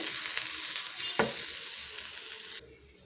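Grated coconut dry-roasts without oil in a pan over a low gas flame while a spatula stirs it. A continuous soft sizzle runs under occasional scraping strokes until the sound drops off near the end, with no voices.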